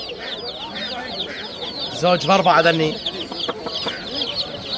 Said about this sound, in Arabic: أفراخ دجاج الأتاك التركي زوج على 4000